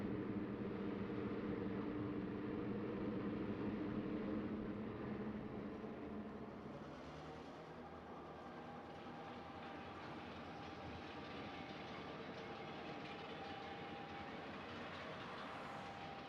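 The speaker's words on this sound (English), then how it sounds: "this train will ease out of sight and eventually re-emerge in the creek area" An HO scale model railroad train rolls along with a continuous rumbling drone and faint clicking over the rails, fading slightly partway through as it moves off, steady and unaccompanied by speech.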